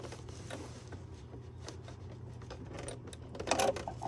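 A sewing machine stitches fabric for a farmhouse pot holder, giving a steady, close mechanical whir with faint ticking, which grows briefly louder near the end.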